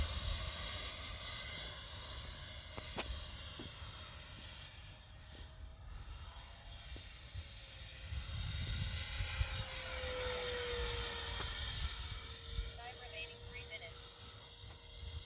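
A Sapac Eurofighter 64mm EDF model jet flies past on half throttle with a steady ducted-fan whine that rises and shifts in pitch, over breezy outdoor noise at a flying field.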